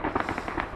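A quick burst of gunfire shoots at Shahed drones over a foggy riverbank, with several sharp reports in rapid succession within under a second.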